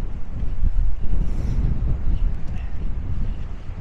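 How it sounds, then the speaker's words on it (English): Strong gusting wind on a lakeshore path around Derwentwater in the Lake District buffets the microphone with a continuous low roar, rising and falling in heavy surges throughout. "it's getting quite windy now"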